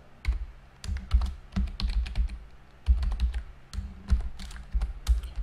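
JavaScript code is typed on a computer keyboard: close, distinct key clicks in uneven bursts with brief pauses, heard alone without talk.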